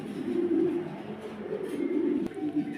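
Pigeons at a pigeon farm coo in a continuous low, throaty murmur, close by and fairly loud, with no pause across the short stretch.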